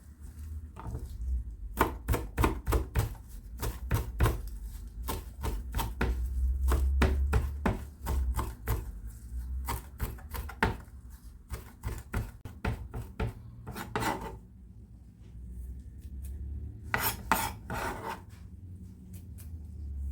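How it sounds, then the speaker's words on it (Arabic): A knife chops parsley on a wooden board in quick, rhythmic bursts of close, crisp knocks, with pauses between runs and no talk. "راح أثرم المعدنوس، قليل من المعدنوس أو كرفس."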